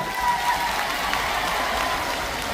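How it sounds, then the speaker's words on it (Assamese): A large rally crowd applauds at a political gathering, a dense, continuous roar of clapping that stays loud and even throughout. "সকলোৱে এটা ভুৱন পেগুৰ কাৰণে ডাঙৰ কৰি হাত চাপৰি দিয়ে।"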